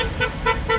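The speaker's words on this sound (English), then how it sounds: "you can hear from the cars that are tooting, trucks, the vans, work lorries, cabbies, they're all driving by tooting" Cars, trucks, vans, work lorries and cabs driving past an anti-ULEZ street protest in Orpington sound their horns in three clear, evenly spaced toots over steady road noise.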